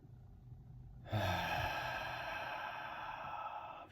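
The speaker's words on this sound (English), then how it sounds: "Deep inhale. Long exhale." A deep inhale and a long exhale during a slow breathing exercise: a sudden audible intake of breath, then a steady airy release that trails off, close to the microphone, with no speech.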